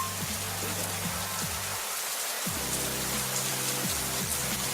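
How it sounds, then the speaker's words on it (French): Steady rain falls outside a window, a dense, even hiss of drops pattering on surfaces, continuous and fairly loud, with a faint low tonal hum wavering underneath. "on s'assoit près de la fenêtre et on regarde la pluie tomber"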